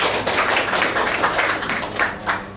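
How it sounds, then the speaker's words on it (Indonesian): Audience applause at the opening ceremony of a hospital accreditation survey at RSUD Puruk Cahu, a close, dense burst of many hands clapping that swells and ebbs, with no talk over it. "Kita kasih tepuk tangan lagi."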